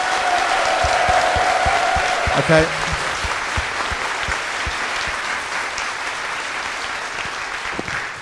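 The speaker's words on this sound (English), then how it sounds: "Let's have a clap for this the Space Invaders one first" Audience members clap to vote for a Space Invaders design at a live podcast recording, a sustained round of mixed hand claps with some individual close claps standing out, while a voice briefly speaks over it.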